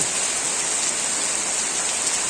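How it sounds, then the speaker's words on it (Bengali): Heavy, unbroken downpour of rain over a village, a dense steady hiss that holds at an even level throughout with no voices. "তো গতকাল রাত থেকে বৃষ্টি চলছে তো চলছে একদম বৃষ্টি শুধু বৃষ্টি"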